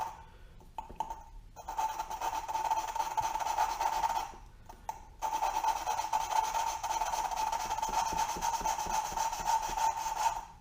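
Valves are lapped into their seats on a 2016 Honda Rubicon 500 cylinder head, a close steady gritty rubbing and scraping that runs on continuously, pausing briefly midway before resuming.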